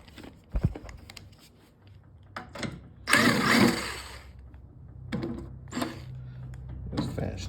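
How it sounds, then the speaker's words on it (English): Bolts are backed out of a snowblower cover up close, heard as scattered metallic clicks and taps with a brief burst of rapid ratcheting in the middle. "Just finish taking our 6 bolts out."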